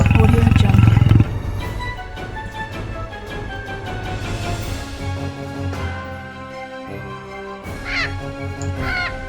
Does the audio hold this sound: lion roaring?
yes